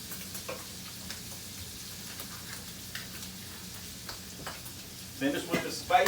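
Shrimp fry quietly in a pan with a soft, steady sizzle and a few light clinks, growing louder with stirring near the end.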